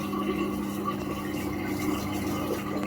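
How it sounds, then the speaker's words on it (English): Indesit 1400 washing machine (WMS E14) with its covers off, its drain pump running short of water: a steady close mechanical hum with a gurgling, rattling texture, continuous and alone. "It's the noise the pump makes when it's not got enough water to pump through."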